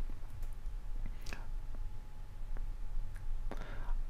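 Computer mouse clicking faintly at close range, a handful of sharp, sparse clicks spread over a quiet background while working in SAP ABAP debugging software.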